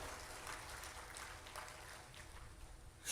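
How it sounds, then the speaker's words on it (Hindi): Audience at a Hindu religious discourse in Udaipur claps steadily, a dense even patter of applause held at moderate level with no pause. "ताली बजाओ ऐसे उन संस्थाओं के लिए, इस तरह का पवित्र काम करती है।"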